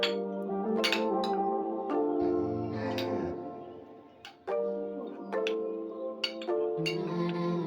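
Metal spoon clinking and scraping in a bowl while mixing chopped chicken with mayonnaise, a steady run of sharp clinks with a brief wetter stirring stretch in the middle, close and fairly loud.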